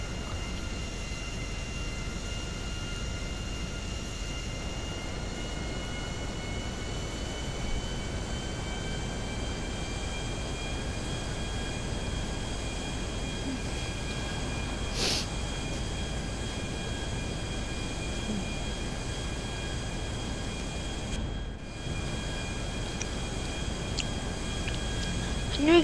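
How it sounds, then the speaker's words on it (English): A plane engine in the video game Grand Theft Auto V drones steadily and evenly for nearly half a minute, a constant mid-level hum with a faint whine and no speech over it. "Oh, no, the plane's gonna crash."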